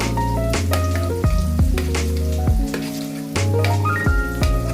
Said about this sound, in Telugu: గ్యాస్ హైలో పెట్టుకొని మంచిగా ఫ్రై చేసుకుందాం